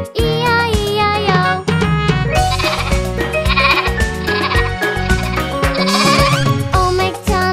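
Repeated sheep bleats ring out over a bright, loud children's nursery-rhyme tune of Old MacDonald, sounding in rhythm with the melody and likely voiced or sampled as part of the song.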